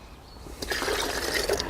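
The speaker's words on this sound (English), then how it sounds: "use your mug, metal mug, and then" Water poured from a metal mug into a filter bag of a water purification kit, a steady splashing fill that starts after a short pause and continues close up without talk.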